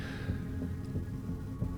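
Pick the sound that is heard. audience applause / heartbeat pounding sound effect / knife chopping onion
heartbeat pounding sound effect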